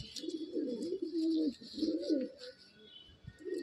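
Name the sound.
Madras (Andhra) pigeons cooing in a loft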